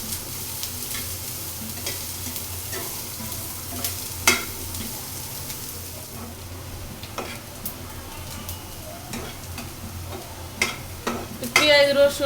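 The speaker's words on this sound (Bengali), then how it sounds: "পেঁয়াজ রসুন আর শুকনো মরিচ ভাজা হয়ে গেছে, নামিয়ে নিব" Dried chili, onion and garlic frying in a pan and stirred, a steady crackling sizzle with repeated scraping strokes and ticking clicks throughout, ending in a louder burst of sizzling.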